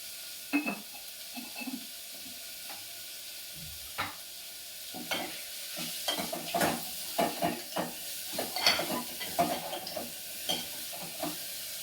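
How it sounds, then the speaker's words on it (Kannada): Grated radish fries in a spiced oil tempering with salt in a village-style kitchen, giving a soft background sizzle broken by scattered spoon stirs and scraping against the pan, with no talking. "ಈ ಥರ ಒಗ್ಗರಣೆಯಲ್ಲಿ ಮೂಲಂಗಿನ ಸ್ವಲ್ಪ ಹುರ್ಕೊಳ್ಳೋದ್ರಿಂದ ಆ ಹಸಿ ವಾಸನೆ ಇರೋದಿಲ್ಲ"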